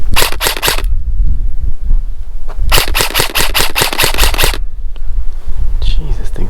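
A KWA Ronin 10 SBR M4 airsoft rifle fires two loud, rapid bursts up close, a short string of crisp snaps followed by a longer run of about ten, with quiet gaps and faint handling noise between.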